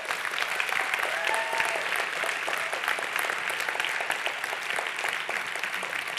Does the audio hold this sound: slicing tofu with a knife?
no